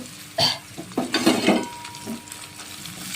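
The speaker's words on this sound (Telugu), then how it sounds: "ఇంగువ జీలకర్ర వేసి ఇలాగా పోపు పెట్టుకోవాలి" Bursts of crackling sizzle as mustard seeds, chana dal, garlic, curry leaves, asafoetida and cumin drop into hot oil for tempering red chilli pickle, mixed with metal clinks of a spoon against a pan, close by.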